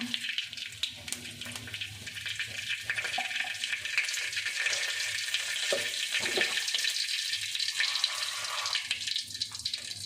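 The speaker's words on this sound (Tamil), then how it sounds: "சட்டி சூடாயிடுச்சுங்க எண்ணெய் சேர்த்துக்கலாம் சீரகம் சேர்த்துக்கலாங்க" Cumin seeds fry in hot oil in a heated pan, giving a steady, soft sizzle and crackle that runs continuously at close range.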